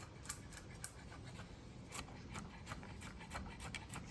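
A knife chops garlic and herbs on a board for a lemon-roasted free-range turkey leg, giving faint, steady, repeated soft cuts and scraping with no voices.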